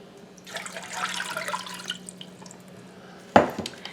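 Water poured into a pan set over medium heat gives a soft, close splashing wash that fades, followed near the end by one sharp clunk.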